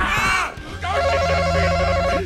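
Film soundtrack excerpt from Monsters, Inc. played as a sound quiz: a bright ringing telephone-bell-like tone cuts off, then a busy mix of sustained tones, a rhythmic ringing pattern and crowd-like noise fills the rest, loud throughout.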